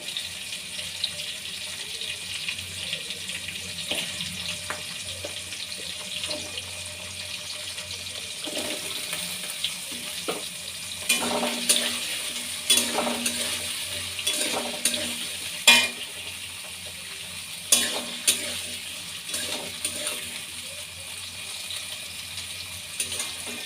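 Shrimp and potatoes fry in a pan for a vegetable curry, giving a steady close sizzling hiss broken by scattered metallic clinks and scrapes from stirring, with no voices.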